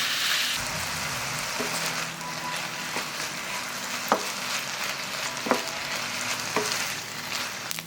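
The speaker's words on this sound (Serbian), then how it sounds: "i pržiti dok meso ne bude gotovo." Pieces of chicken sizzle in a pan while being stirred, a continuous hissing fry punctuated by a few sharp utensil taps and scrapes, with no one speaking.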